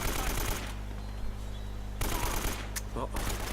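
Gunfire in the action video game Uncharted, a dense rattle of shots that runs loud through the first moment, thins out, then returns in bursts near the end.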